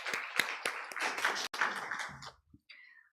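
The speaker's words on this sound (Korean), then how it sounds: "하나님께 영광의 박수 올려드리겠습니다" A small congregation at a Wednesday church service gives a short spatter of hand claps with a few sharp taps. It thins out and fades into near silence.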